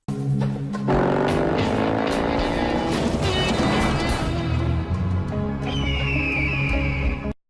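A car accelerating hard in a film scene, its loud engine rising steadily in pitch for several seconds, with a high whine near the end before it cuts off abruptly.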